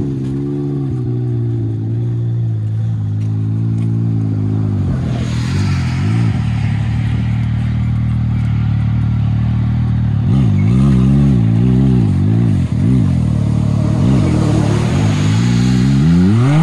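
Three 200 HP engines, apparently Can-Am Maverick X3 side-by-sides rather than snowmobiles, on a snowy hill climb, loud and close, rumbling at a steady idle and then rising and falling through repeated revs.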